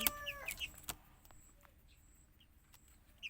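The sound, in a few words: chicken chick peeping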